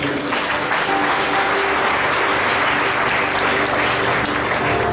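Church congregation applauding and cheering in praise of the Lord, a dense, steady wash of clapping that fills the whole stretch without a break.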